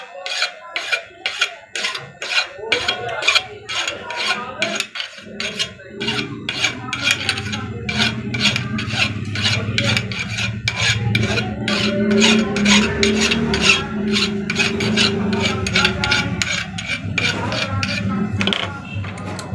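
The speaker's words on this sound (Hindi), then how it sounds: "ऊपर से ना इस तरह रेती के साथ, फाइल के साथ जो है ना इसको" A metal file rasps against a sewing machine part during repair, with steady, rhythmic strokes repeating closely and loudly through the whole stretch over a low mechanical hum.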